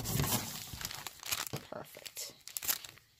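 Paper bag being trimmed and torn by hand, steady crinkling and ripping of paper close up, with a short spoken word partway through.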